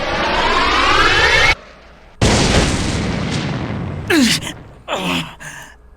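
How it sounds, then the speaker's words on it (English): Massive explosion in the Dies Irae game: a loud, deep boom rolls out after a sudden cut, followed by shorter bursts and impacts, with a voice heard in between. "an explosion so fierce it dwarfed all previous bombardments, an explosion that seemed to rip apart the very heavens."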